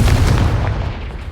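A Confringo fire spell blasts off in Hogwarts Legacy, a loud booming burst at the start that rolls into a dull rumbling decay, heard alone without any voices.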